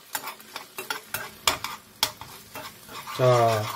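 Finely chopped onions stir-fried in a pan with noodle water for jjajang ramen, a run of scraping, clacking stirring strokes close by, ending in a louder steady sizzle, with a brief spoken word.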